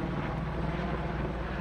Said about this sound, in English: is that the first chopper that's come in?